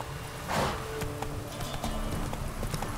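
A horse gallops in The Witcher 3 with quick, rhythmic hoofbeats and a brief whoosh near the start, set against game ambience.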